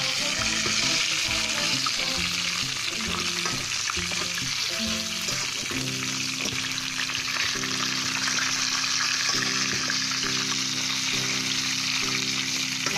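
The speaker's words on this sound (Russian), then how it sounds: "вот жарится наша последняя партия" Steady, loud sizzling of belyashi, meat-filled dough pastries, frying in hot oil fills the whole stretch, with a background tune playing underneath and no voices.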